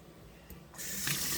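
Water from a kitchen tap gushes into a sink to fill a container. It starts suddenly partway through, then keeps up a steady, close rush.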